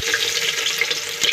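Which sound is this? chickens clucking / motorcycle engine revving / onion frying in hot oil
onion frying in hot oil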